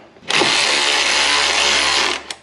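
Power tool whirring steadily for about two seconds while 10 mm bolts come out of a 4.8L LS engine, loud and close, starting abruptly and stopping with a brief click at the end.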